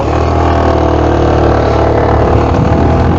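A REX RS 125 GY6 scooter engine runs steadily up close, a loud continuous mechanical drone with no pauses and no talking.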